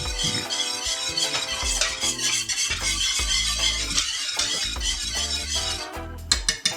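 Jamaican cornmeal porridge is stirred in a pot over the heat, a continuous scraping, swishing churn of a spoon against the pot with faint clinks, close and steady throughout, with no one talking.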